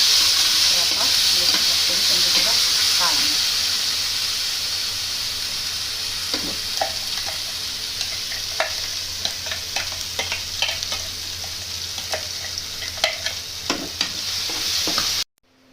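Ground onion, tomato and green chili masala frying and being stirred in a pan for pav bhaji, with a steady sizzle throughout and scattered scraping clicks from the spoon, close and fairly loud, no talking.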